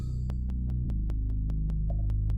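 An analog-style synth bass, a GMS patch with distortion and EQ made to imitate a Moog, droning low and thick under a steady clicking beat, with the bass note shifting slightly partway through.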